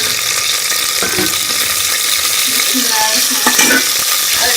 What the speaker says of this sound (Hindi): इसके अंदर ये प्याज को डाल के हम ब्राउन कर लेंगे